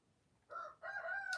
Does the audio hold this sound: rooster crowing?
yes